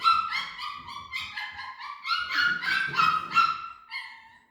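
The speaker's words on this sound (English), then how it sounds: "That is some other puppies. Sad that they're not getting to come out right now." Several Bernedoodle puppies whimper and yip in a continuous, high-pitched chorus with short barks mixed in, close by and fairly loud throughout.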